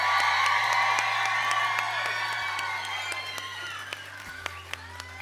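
Cheering and clapping fill a hall during a cosplay competition at NärCon Expo Södertälje 2024, loud at first with excited shouts and whoops, then thinning toward a few scattered claps.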